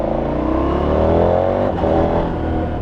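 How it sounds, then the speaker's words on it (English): A 2019 KTM 1290 Super Adventure touring motorcycle accelerates hard in sport mode, its engine note climbing steadily. A brief dip marks a quick-shifter gear change, then it pulls on loud and close without a break. "That quick shifter is just so good."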